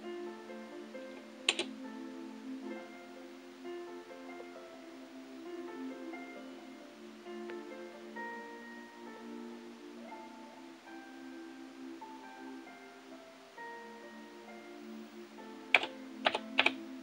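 Keys clatter on an MSX Turbo-R computer keyboard in short bursts near the start and end, over steady background music playing throughout.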